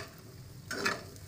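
Pendalam yam pieces frying in a pan on the stove, a soft steady sizzle with a short louder stirring scrape near the end.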